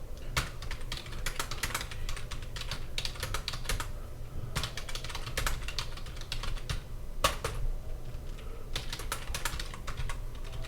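Steady typing on a computer keyboard while entering text in Adobe Illustrator, continuous close key clicks in uneven runs with brief pauses, over a low background hum.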